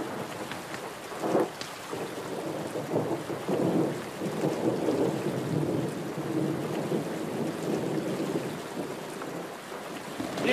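Steady rain falls with low rumbles of thunder rolling through, a continuous stormy wash with no voices.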